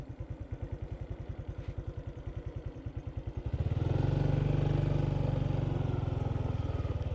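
A motorbike engine thumps in a fast, steady beat while riding along a dry-season field path, close and loud, then swells into a stronger, smoother roar as it speeds up, with no talking.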